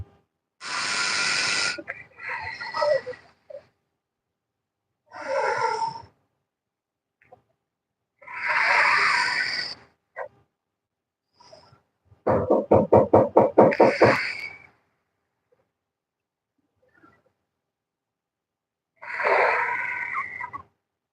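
Kapalabhati breathing in a pranayama session: forceful exhalations pushed out through the nose, heard as separate breathy bursts and one quick rhythmic run of sharp puffs, close and clear with quiet gaps between.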